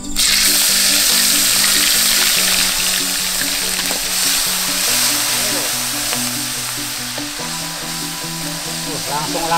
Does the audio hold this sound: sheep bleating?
no